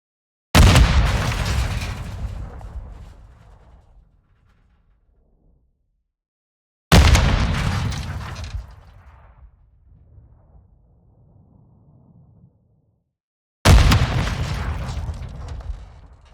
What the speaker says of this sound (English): reactive emitters are great at enhancing explosions